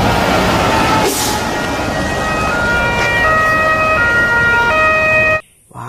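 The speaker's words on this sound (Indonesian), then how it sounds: "Lihat teman-teman, ini adalah mobil pemadam kebakaran." A fire truck siren sounds loudly and steadily in alternating electronic tones for about five seconds, then cuts off abruptly.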